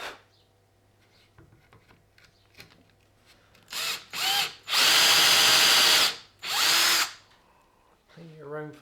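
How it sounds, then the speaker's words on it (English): An 8mm bit in a power drill bores into wood during a wooden bike build, with a few short bursts followed by two longer, loud whirring runs close by, separated by quiet pauses, and a brief voice at the end. "with the 8mm drill bit"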